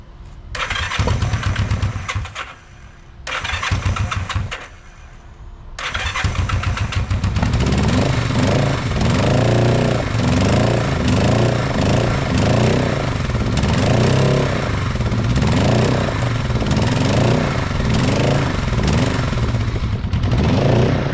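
An old motorcycle engine, just repaired with new points and fuel lines, cranks in a few loud bursts, then catches and runs steadily and loudly close by, with no talk.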